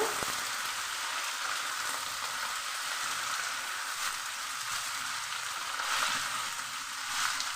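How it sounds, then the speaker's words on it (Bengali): Long-sliced onions, about half a kilo, fry in oil for a dried-fish dish, giving a steady, even sizzling hiss close by with faint occasional stirring and no voices. "তেলের সঙ্গে পেঁয়াজটা একটু ভেজে নিয়ে পেঁয়াজটাকে নরম করে নেব"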